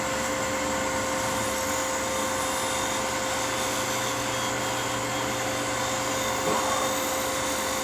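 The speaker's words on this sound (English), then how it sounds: "it's a lot more efficient to just round them off with your skew chisel in scraper mode" A wood lathe spins steadily while a skew chisel used as a scraper rounds off a hollowed Christmas ornament, giving a constant close whirring hum with a faint scraping texture and no talking.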